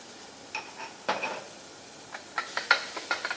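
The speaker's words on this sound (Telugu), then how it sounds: "ఇలాగా వేసుకొని దీన్ని ఫ్రై చేసుకుందాం." Onions frying in oil with garlic and ginger paste outdoors for a vegetable soup, a faint steady sizzle under scattered light scrapes and clinks of a spoon stirring the pan, no talk.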